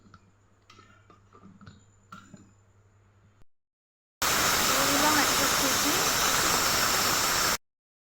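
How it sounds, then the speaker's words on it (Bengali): A pressure cooker boiling jackfruit seeds in water lets off a loud, steady rush of hissing steam for about three seconds, after some quiet background talk and a short silence. "আর এই কাঁঠালের দানাগুলোকে প্রেসার কুকারের মধ্যে দিয়ে দিলাম।"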